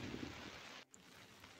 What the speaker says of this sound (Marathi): बाहेर पाऊस बघा किती पडतोय.